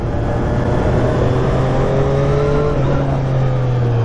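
A 123 hp Triumph Street Triple RS motorcycle engine revs hard in second gear in sport mode, a loud continuous roar with rising and falling tones close to the rider under steady wind noise.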